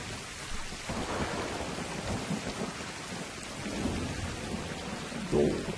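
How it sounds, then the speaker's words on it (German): Steady rainfall with low rolling thunder rumbling underneath in the video game Darksiders 2, a continuous stormy wash without any talking. "Immer dieser Regen."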